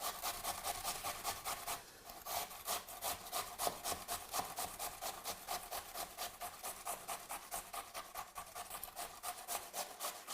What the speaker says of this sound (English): you take a potato now and just rub away the garlic twice